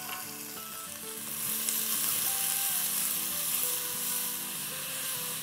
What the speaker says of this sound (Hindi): इसको अब हम सॉटे करेंगे